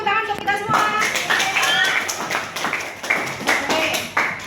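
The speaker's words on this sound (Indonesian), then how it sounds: "tepuk tangan untuk kita semua" A class of students clapping together in a classroom, a loose burst of hand claps that rises, wavers and tapers off, mixed with children's voices and chatter throughout.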